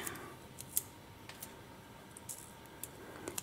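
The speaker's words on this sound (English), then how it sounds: "now I'm just gonna trim and tuck that little end away" Wire cutters trim the end of craft wire on a wire-wrapped tree of life pendant. A few faint, crisp snips and clicks are spread across a quiet background.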